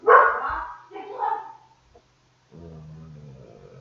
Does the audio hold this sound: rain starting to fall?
no